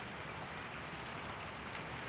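Rain falls steadily during a stop at Mandalika, a dense, even hiss of drops on surfaces, constant and fairly loud throughout with no talking.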